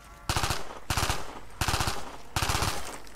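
A gun in a Minecraft challenge map fires four quick rapid bursts, each a tight cluster of sharp synthetic shots separated by short gaps, close and punchy.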